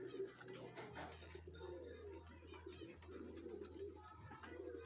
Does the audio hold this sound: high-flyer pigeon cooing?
yes